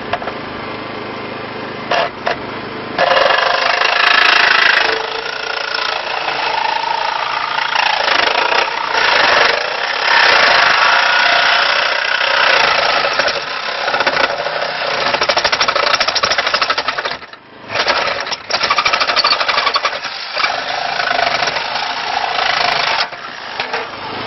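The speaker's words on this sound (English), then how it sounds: "Blade cut's very easy, very nice to use. Nice clean cut just above the seatbelt recoil mechanism." A reciprocating saw fitted with a Lenox variable-tooth blade cuts through a car body's pillar during road traffic collision extrication training, giving a loud, continuous buzzing rasp for most of the clip with a brief dip midway.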